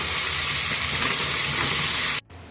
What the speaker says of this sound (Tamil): ப்ரௌனா வெங்காயம் வறுவதற்கு சிம்ல வச்சு வதக்கிக்கலாம்